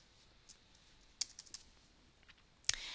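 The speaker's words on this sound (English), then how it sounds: "I can just start typing in here" Light typing on a computer keyboard, a few scattered key clicks with a sharper keystroke near the end, quiet and close in a still room.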